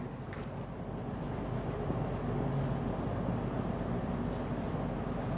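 Pen writing on paper while filling in a balance sheet, a continuous soft scratching close up against a constant background hum, no voices.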